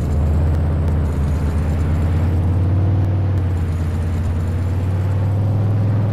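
Old, loud pickup truck engine in a farming simulator video game, a steady, heavy droning rumble that holds unbroken and close throughout with no talk.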